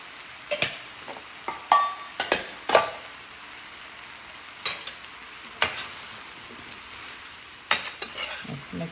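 Vegan curry with basil, mint and thyme being stirred in a pan, a utensil scraping and knocking against the pot in irregular bursts over a soft background sizzle.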